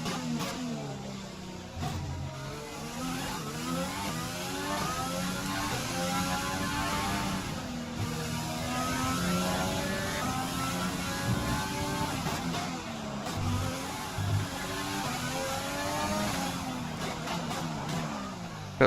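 An F1 2020 car engine on a flying lap around the Monaco GP circuit, a continuous high whine with rising and falling revs as it shifts gears through the corners.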